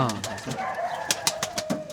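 White pigeons of a Panjabi breed coo in a loft in Nepal, soft throaty calls rising and falling close by, with several short sharp flutters or clicks breaking in toward the end.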